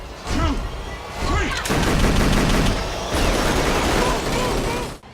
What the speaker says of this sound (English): You're gonna empty your mag and run.